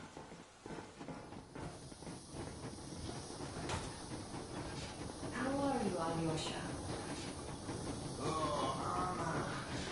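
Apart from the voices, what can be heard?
steam train moving in the video game Metro Exodus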